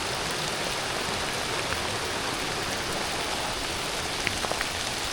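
Steady rain falls during an evening hike along the Cahaba River Riverwalk, a dense even hiss filling the whole stretch with a few sharper drops pattering nearby.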